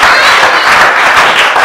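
A church congregation applauds and cheers, a dense, loud wash of clapping and crowd noise that holds steady throughout.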